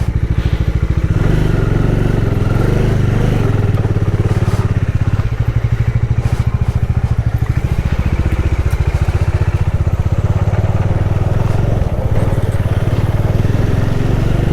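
A motorcycle engine runs steadily and loudly at close range while riding in heavy traffic on the road to Manali, a continuous throbbing rumble with no speech.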